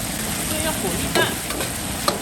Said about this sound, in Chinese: 再下入香菜，香菜牛肉，给它炒一下